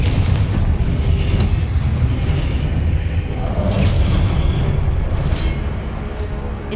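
Confringo blasting spells exploding in the video game Hogwarts Legacy, a run of loud, deep booms with whooshing bursts that rumble in close succession.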